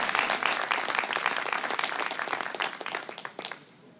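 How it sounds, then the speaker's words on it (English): A conference audience applauds steadily with dense, overlapping clapping that thins out and fades toward the end. "If you could please give them a round of applause."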